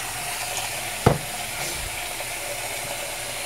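Lukewarm tap water runs steadily into a stoppered sink while hair is being washed, a constant hiss with one brief clunk partway through.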